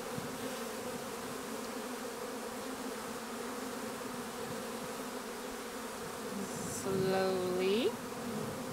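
Honeybees hum in a steady, dense drone around a hive as it is set up at an apiary on a homestead. A few louder buzzes pass close near the end, and a person speaks briefly and quietly.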